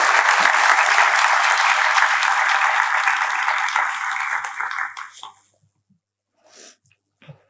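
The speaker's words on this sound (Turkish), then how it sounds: "alkışlarınızla sahneye davet ediyorum" Audience applause welcoming the Northern Cyprus foreign minister onto a stage, a full, dense round of clapping that fades out after about five seconds, followed by near silence and a few faint brief sounds.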